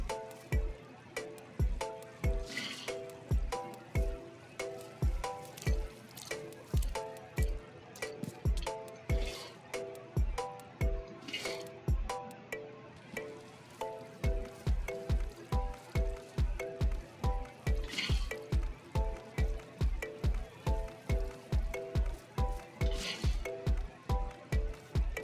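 Blocky water in Minecraft is set down and flows, a rapid run of soft rhythmic plops and taps repeating steadily under light game clatter, with no talk heard.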